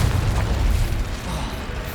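A Confringo fire-blast spell detonates during a Hogwarts Legacy duel, a heavy low rumbling boom that fills the whole two seconds at steady loudness with no talk over it.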